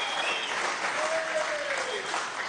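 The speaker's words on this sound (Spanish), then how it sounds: "un aplauso a todo Barcelona, desde aquí" An audience applauds at a ceremony in Venezuela where President Maduro honours athlete Yulimar Rojas, a steady, dense wash of clapping that holds for the whole stretch, with faint voices mixed in.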